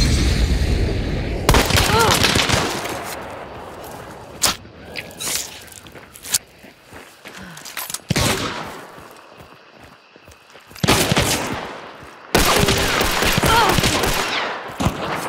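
Bursts of automatic gunfire from a video game, loud dense volleys separated by quieter stretches with scattered clicks and footsteps, with some voices under the action.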